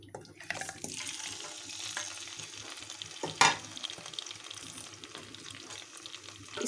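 About half a kilo of chicken fries in hot oil for a spicy chicken karela gosht, a steady, close sizzle and crackle with a brief sharp clink partway through.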